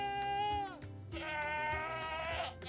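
Goats bleating on a farm, two or three loud, wavering calls close by, one after another with a short gap between them, and no talk over them.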